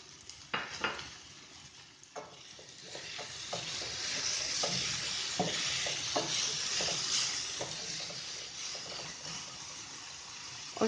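Peas sautéed in a pan over a high flame, a steady broad sizzle with repeated scraping and stirring clicks of a utensil against the pan, close and continuous with no talking.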